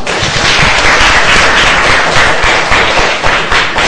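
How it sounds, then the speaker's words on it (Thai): Students in a Grade 6 math class clap together after a correct answer, a loud, dense burst of many hands with sharp individual claps standing out, sustained evenly for several seconds without talk. "ปรบมือให้ทั้งหมด"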